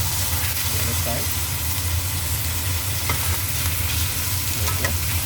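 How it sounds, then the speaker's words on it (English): Chicken char siu fries in a wok with a dense continuous sizzle and low rumble of the burner, a few faint scrapes of turning, and what may be a voice low in the mix. "I'm going to flip it over"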